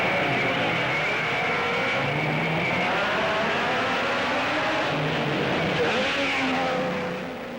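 Pre-war Grand Prix racing cars at Pau in 1938, a Delahaye leading a field that includes Type 51 Bugattis, roar in a steady, dense engine drone with shifting pitches throughout.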